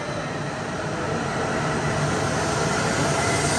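A high-speed train in Japan roars past close by, a steady loud rushing rumble with wind noise that holds for several seconds.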